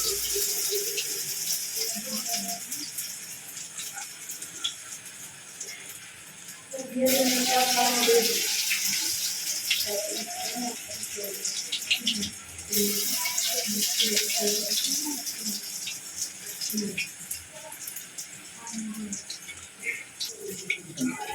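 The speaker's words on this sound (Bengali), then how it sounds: "এবার পেঁয়াজিগুলো ভেজে নিচ্ছি" Onion fritters (piyaji) frying in oil for iftar in a home kitchen: a steady sizzling hiss that swells louder as more batter goes in, with someone talking over it.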